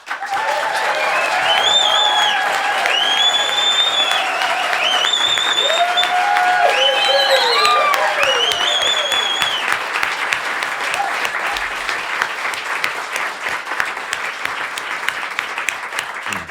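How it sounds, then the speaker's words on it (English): Studio audience applause at a live acoustic radio session in a loft, loud, dense clapping that continues steadily, with whoops and cheers rising over it early on. "It's good radio applause."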